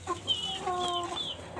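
A backyard kampung laying hen clucks close by, a few short clucks followed by a longer drawn-out, throaty call, with soft farmyard ambience behind it and no speech.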